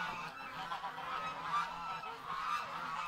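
A flock of ducks honks and quacks repeatedly in overlapping calls, moderately close, with a steady outdoor background.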